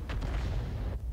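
Artillery fire in a World of Tanks–style game: a single heavy, booming shot with a rolling low rumble that fills the clip and cuts off near the end, loud and close with no talking.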